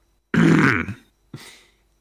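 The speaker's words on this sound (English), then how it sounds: "I was clearing my throat" A throat clearing up close: a harsh, voiced rasp lasting about half a second, then a shorter, softer follow-up rasp after a brief pause.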